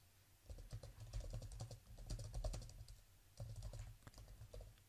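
Someone types steadily on a computer keyboard nearby, a fast patter of soft key clicks in short runs with a brief pause between bursts.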